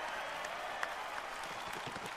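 Sustained crowd applause in the video game Final Fantasy VII Rebirth, a dense wash of many hands clapping at a steady level, with no talking over it.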